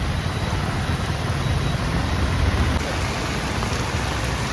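Heavy rain pours steadily onto a flooded road beside the overflowing Manimala river at Mundakayam, a dense unbroken hiss with no voices.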